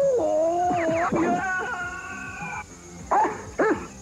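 A dog's voice in a lively channel promo rises in drawn-out yips and howl-like cries, then breaks off and returns with two short, loud barks near the end, all set against a steady backing tone.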